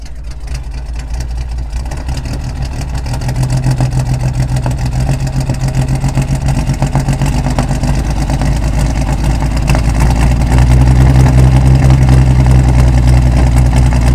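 A 1964 Chevy C10 pickup engine idles loudly and steadily after a cold start, a deep throbbing rumble that rises slightly in pitch and strength partway through, with no voices.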